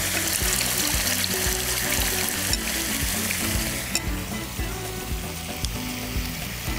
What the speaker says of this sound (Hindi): ये देखिए काफ़ी ज़्यादा मसाला जो है ये इस वक्त भुन चुका है। ठीक है, हम इसमें अब डालेंगे इमली का पल्प।